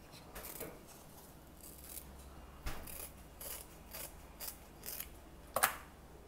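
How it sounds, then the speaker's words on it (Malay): Scissors snip through a palm frond while a food container is being made, giving a series of crisp, irregular cuts and clicks up close in an otherwise quiet room, with one sharper snap near the end. "Sebelah sini yang apa dekat dengan pelepah tadi tu pun kita gunting juga."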